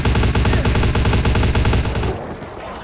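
Rapid machine gun fire in the vampire video game Vampire Bloodlines, loud, dense and continuous bursts for about two seconds before cutting off into a quieter tail.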